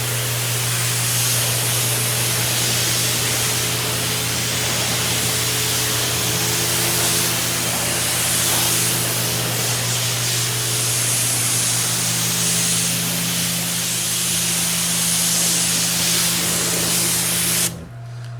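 Loud, steady hiss of water spraying at high pressure while rinsing a Porsche 718 GT4, running nonstop for a long stretch before cutting off abruptly at the end.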